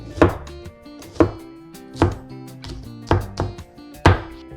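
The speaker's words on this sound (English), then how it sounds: "I'm going to slice them thin." A knife slices through spring onion parts thin on a cutting board, five crisp, evenly spaced chops close and loud with short gaps between them.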